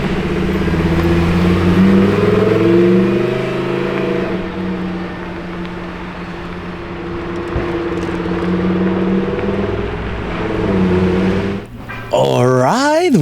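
A black Lamborghini Performante engine drones with a steady, strong harmonic growl that swells and eases, then breaks into a sharper, rising rev near the end, close and loud.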